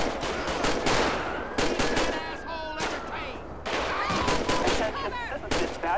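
Gunfire in GTA 5 during a police patrol with the LSPDFR mod: rapid bursts of loud, sharp shots crack in quick clusters with brief gaps, while a player talks over the shooting.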